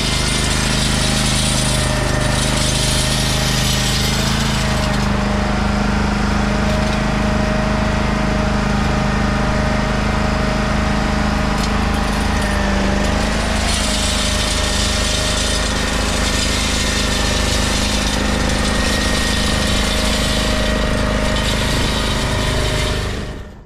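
Peterbilt snow plow truck engine runs loud and steady from start to finish, a dense rumbling drone with a brief surge in pitch partway through as the wheels spin, no voices over it.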